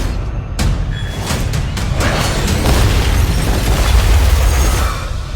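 The White House is blown apart in a Captain America: Brave New World trailer: a loud, close blast opens a sustained low rumble, with crackling, debris-like bursts running through it.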